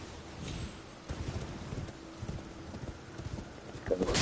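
Horse hooves clip-clop in a steady rhythm while riding through Elden Ring, with a soft wind-like ambience behind and no talking.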